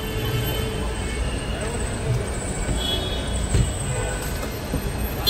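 A Delhi metro train runs with a steady rumble and faint wheel squeal, continuous and fairly close, with no clear speech over it.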